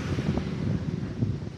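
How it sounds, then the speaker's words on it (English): A strong headwind buffets the microphone during a tempo run at altitude, a loud, continuous low rumble with gusty surges and no voices. "I was just running into a really strong headwind"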